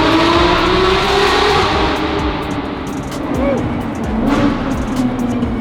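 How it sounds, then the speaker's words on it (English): A car fitted with a new Rift exhaust and stock headers revs hard, the exhaust note loud and near, rising and falling in pitch as the engine climbs and eases off. "So guys, we got the new Rift exhaust, by the way, on this car."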